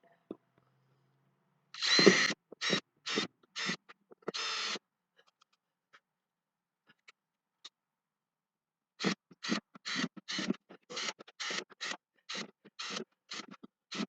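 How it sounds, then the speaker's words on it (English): A drill bores drainage holes into a container used as a corn planter, heard as a run of short, close, whirring bursts, a pause, then another quick series of repeated bursts. "So we're going to just screw some holes in it"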